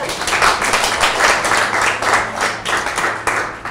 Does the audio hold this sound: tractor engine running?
no